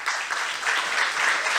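A round of applause for Maura Kiernan, the chamber's board chairwoman, as steady clapping from an audience holds at an even level for its full short length.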